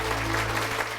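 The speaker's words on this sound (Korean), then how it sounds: "박수 올려드리겠습니다." Applause from a church congregation during a worship gathering, a continuous dense roar of many hands over a low steady hum, filling the brief moment without pause.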